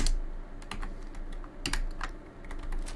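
Rapid close clacking of computer keyboard keys as a console command is typed into Fallout 4, uneven bursts of keystrokes over a low background hum, no speech.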